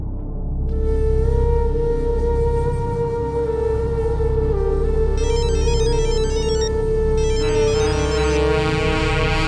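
An electronic phone ringtone plays loudly over a low hum, a repeating chirping melody that grows busier partway through.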